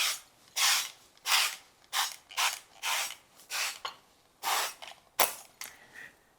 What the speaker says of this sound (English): we're just gonna spray with a olive oil or some kind of nonstick spray.